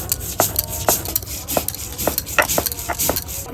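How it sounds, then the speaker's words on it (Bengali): Poppy seeds are ground by hand on a grinding stone, a rhythmic series of short scraping and knocking strokes, roughly two per second, close and moderately loud, with no talking. "টমাটারটা একটু বসিয়ে নিচ্ছি পোস্তটা বেটে নিচ্ছি"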